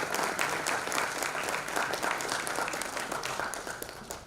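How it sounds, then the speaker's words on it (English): Steady applause from a seated audience at a technology and sustainability conference session, dense and even, fading slightly toward the end. "Please give a big round of applause."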